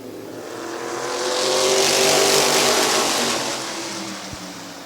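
Race cars roaring through an 8-lap heat race at Midvale Speedway, engines swelling louder as the pack passes near and then fading slightly, a continuous droning wash of revving motors.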